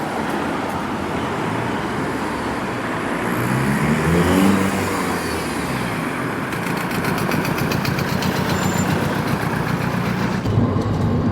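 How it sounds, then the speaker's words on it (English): A Rover ZR with a 200 bhp L-series engine cruises with a continuous, steady engine drone and road noise heard from inside the car, with a brief swell in pitch midway. "As you can see, the car drives perfectly happily at the speed limit or even below."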